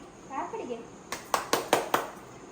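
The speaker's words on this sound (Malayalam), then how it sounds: "Clap clap clap clap." A family at home claps hands together in a short burst of four sharp, evenly spaced claps, close by, after a voice speaks briefly.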